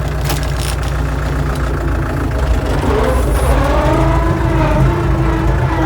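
A Lovol 354 tractor engine idles steadily with a deep low rumble, its pitch rising and falling slightly as it revs, loud and close throughout.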